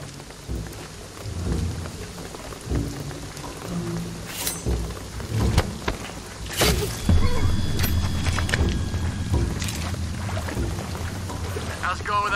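Heavy rain pours down with thunder cracking and rumbling in Shadow of the Tomb Raider as a tsunami approaches, loud bursts over a constant downpour.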